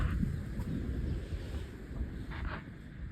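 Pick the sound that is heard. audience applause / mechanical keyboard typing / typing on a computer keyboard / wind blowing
wind blowing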